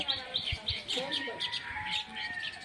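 Baya weaver birds chirp at their nests in a tree, a rapid series of bright, close tweets repeating in quick succession.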